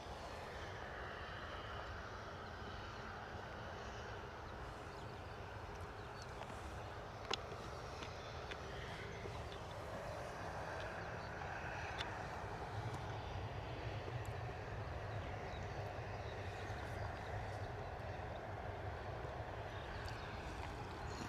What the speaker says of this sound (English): Here we go, Ryanair 737 coming in from Naples.